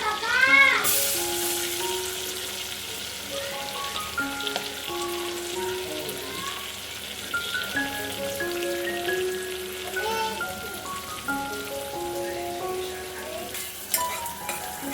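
Onion frying in hot butter for pav bhaji, a steady sizzle with occasional stirring clatter, under faint household sounds and brief tonal squeaks.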